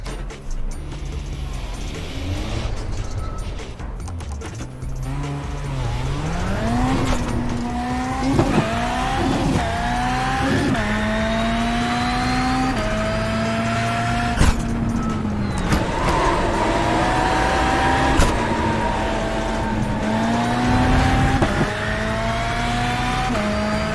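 An IRX Beetle race car in a racing video game roars loudly through repeated gear shifts, its engine pitch climbing and dropping steadily, with occasional tire squeal along the course.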